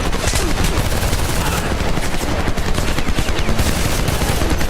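Machine gun fire in the Homefront video game rattles in dense, continuous bursts, loud and close, packed with overlapping gunshots throughout.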